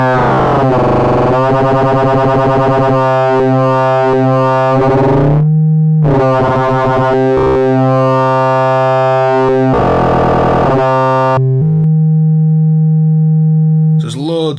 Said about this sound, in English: You can also sync the two oscillators.